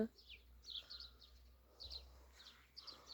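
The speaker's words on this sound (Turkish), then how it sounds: "Arıların sesi, kuşların sesi." Faint high bird chirps and short songs repeating in the distance outdoors, with bees around, over a quiet low background hum.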